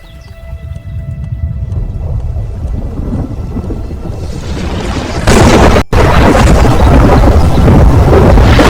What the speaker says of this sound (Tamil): காற்றும் முன்னை விட ரொம்ப பலமா வீச ஆரம்பிச்சது.